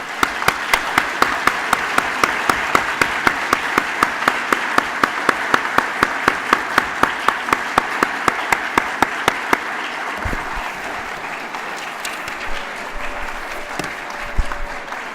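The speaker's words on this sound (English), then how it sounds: "If you would give a big round of applause." Applause from an audience at a scholastic awards banquet, a full steady round of many clapping hands with one loud, near, rhythmic clapper standing out, then thinning to scattered claps toward the end.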